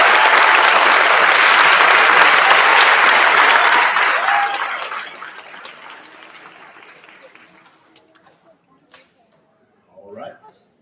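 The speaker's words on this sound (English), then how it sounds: "if you could clap for my amazing staff" An audience claps at an 8th grade promotion ceremony, a dense loud wave of applause that holds for about four seconds, then thins and fades to scattered claps, with a brief voice near the end.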